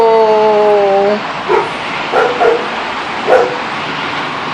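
A dog barks inside an apartment: a few short, sharp yips and barks spaced across several seconds over a steady background hum, fairly close, with no talking.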